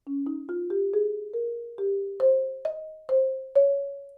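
A mallet percussion instrument plays a short rising melodic line of struck notes, each ringing briefly, clear and alone.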